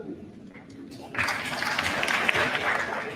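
Applause for senior award recipients at an awards ceremony, rising suddenly after a speaking voice and continuing as steady, fairly loud clapping from the audience.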